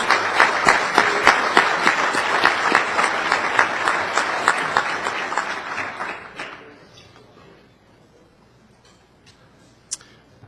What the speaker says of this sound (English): Let's have another nice round of applause for our 4 Coach of the Years.